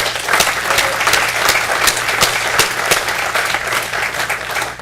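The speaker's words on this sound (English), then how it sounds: "So could we have a round of applause?" An audience at a panel roundtable event gives a round of applause for the sponsors: loud, sustained clapping from many hands with sharp individual claps standing out, continuous throughout.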